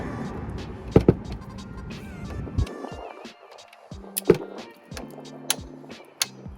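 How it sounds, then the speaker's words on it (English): Spanners work on the front brake caliper bolts of a Clio 3, with sharp metallic clicks and clanks, some rattling handling noise, and short ratcheting bursts spread across the stretch. "So I'm just going to get my spanners on now."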